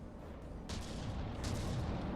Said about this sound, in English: Now the plasma is firing too.